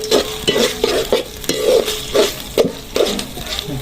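Spices, ginger-garlic paste and bay leaf stir-fry in a pan for a goose meat curry, with sizzling broken by rhythmic scraping strokes of the spoon about twice a second.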